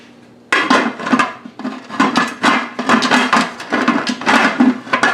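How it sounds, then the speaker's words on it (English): A metal lid is fitted and locked onto a pressure canner while raw-packed potatoes are being canned, giving a run of loud, close metallic clanks and scrapes in an irregular rhythm. "now I'm just going to get the right side on my canner"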